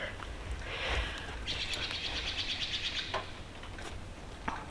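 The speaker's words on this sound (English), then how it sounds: "the birds just sound so nice today" Birds sing and chirp outdoors at a moderate distance, with a steady trilling song over soft ambient background noise.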